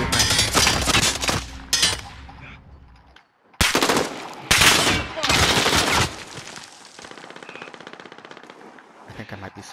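Loud automatic gunfire in Call of Duty: Warzone, with long close rapid bursts broken by brief pauses, then a quieter stretch of faster, fainter rattling fire before one more burst at the end.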